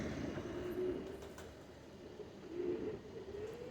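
Pigeons kept for a pigeon show coo softly in two low, rolling phrases, heard outdoors against faint background noise.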